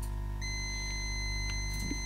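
A multimeter on continuity mode gives a steady, clear tone while probing capacitors on a MacBook Pro 16-inch logic board during a no-power repair. The beep starts a moment in and holds continuously over a faint background hum.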